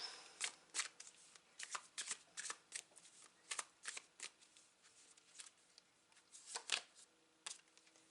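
Tarot cards being shuffled in quick riffling bursts, repeated over and over at close range with no talking.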